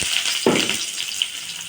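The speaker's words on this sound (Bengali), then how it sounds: "পেঁয়াজটা লাল করে ভেজে নেবো" Chopped onion frying in a pan, a steady close sizzle that jumps with a sudden burst of crackling as the pieces hit the hot oil, then settles into continuous hiss.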